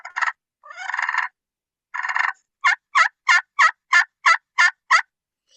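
Wild turkey purrs, rolling and buzzy, followed by a steady run of eight sharp, evenly spaced yelping calls, close and clear with no talk.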